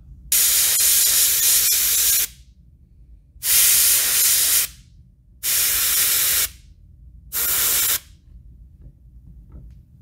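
A spray can lays paint onto an alligator-shaped swimbait fishing lure in four separate loud hissing bursts, each lasting one to two seconds with short quiet pauses between them, close up and with no talking.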